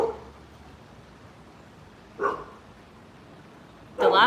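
A dog gives two short, separate barks a couple of seconds apart against a quiet background.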